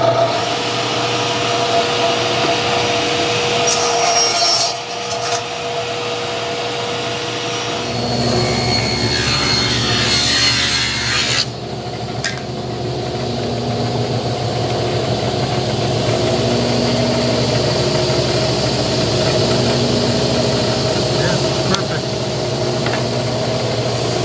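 A power saw whines loud and continuous while cutting wood into 3/8 inch strips for a beehive queen grafting box, the motor pitch shifting as the blade meets and leaves the board.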